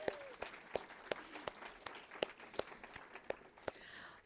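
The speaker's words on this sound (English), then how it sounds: "If we could give Sue a round of applause." Faint, sparse clapping rings out at an even pace in a quiet room, as a small audience at a women's calendar program thanks an event organizer.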